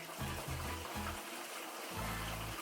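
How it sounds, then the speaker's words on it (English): Water siphoned through a colander gurgles and sloshes in short low pulses, three quick surges, a pause, then another flowing burst, close by and fairly quiet. "we're gonna start siphoning for the first time with this colander"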